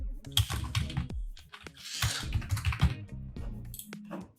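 A computer keyboard is typed on while entering text into an MS Excel wages sheet, with close, irregular bursts of keystrokes and clicks and some low murmuring beneath.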